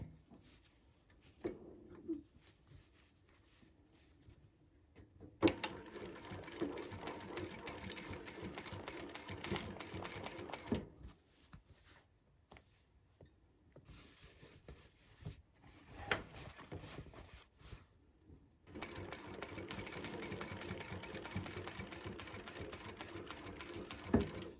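A domestic sewing machine stitches fabric pockets for a custom wall organiser in several bursts of rapid, even rattling, separated by quiet pauses with small handling clicks, close and moderately loud.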